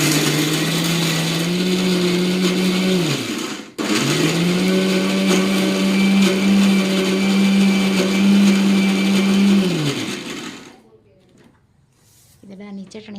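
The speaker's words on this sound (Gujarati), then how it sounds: "હવે ભાઈ મિક્સર હાલશે આગળ" A kitchen mixer grinder whirs loudly, blending chutney paste for Surati idada with lemon juice and water, running steadily in two long bursts with a brief pause, then stopping; faint voices follow.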